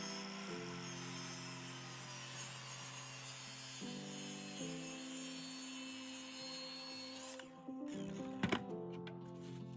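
A Kreg Adaptive Cutting System track saw rips through wood with a steady, loud, sustained cutting whine and rasp that shifts slightly in pitch partway through, then winds down with a few clattering bumps near the end.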